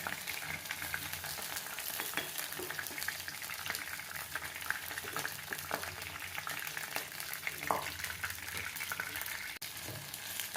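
Chicken pieces frying in oil in a kadai, a continuous crackling sizzle with occasional stirring knocks, close and steady, no talking.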